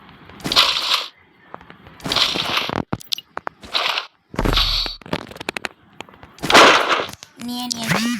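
Shotgun blasts in the game Free Fire: a string of loud, sharp, crunchy shots spaced irregularly, with brief ringing and clicking between them, close and punchy.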